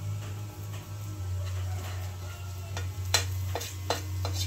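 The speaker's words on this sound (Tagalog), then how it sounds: "Gigisa na po siya ng bawang at sibuyas." Garlic, onion and tomato sautéing in a pan at home, a soft continuous sizzle with scattered scraping stir strokes and a few sharper clicks of the utensil against the pan, over a low steady hum.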